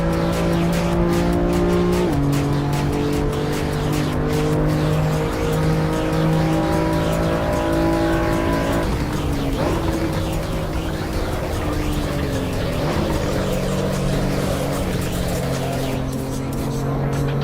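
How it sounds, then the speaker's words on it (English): Race car engine droning with stepped gear changes and a screeching squeal of scrubbed tires in the racing game Assetto Corsa Evo, loud and continuous throughout. "I was scrubbing the tires a lot."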